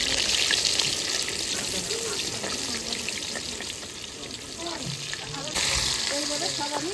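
Rita fish frying in oil in a pan gives a steady, dense sizzle and crackle that runs throughout, while people talk over it nearby.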